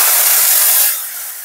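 Hot tempering poured into pumpkin dappalam gives a loud, bright sizzle that bursts out at once, then fades and settles over about a second.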